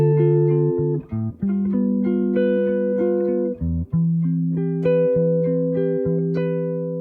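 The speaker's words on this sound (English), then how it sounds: "we could also right-hand arpeggiate the chords" Guitar chords are played with notes picked one after another, each chord ringing out in turn with brief gaps between changes.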